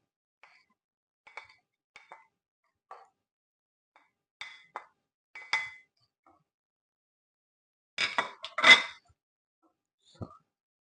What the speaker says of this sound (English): Put these onions in.